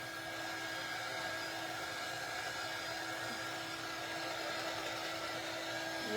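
A hair dryer runs nonstop while drying a homemade DIY pumpkin craft, a steady whirring motor drone with an even airflow hiss and no pauses, close up and heard without any talk.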